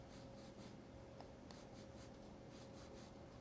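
Pencil strokes on paper sketching Olaf's branch fingers from Frozen, a soft, steady series of short scratchy marks, close and quiet, with no talking.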